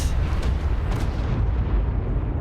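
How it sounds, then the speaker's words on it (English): A meteor strike explodes in Ark Ascended, a loud, dense rumbling blast with crackling debris that fills the whole moment and then slowly tails off. "left bumper calls in like a meteor strike around you or something"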